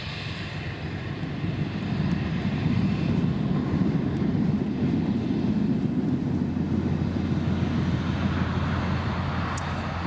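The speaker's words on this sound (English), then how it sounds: "Next up we've got a TUI 737-800 coming in." A TUI Boeing 737-800 on final approach to Newcastle International Airport's runway 25 gives a steady, broad jet rumble that swells slightly and holds at a moderate distance without letup.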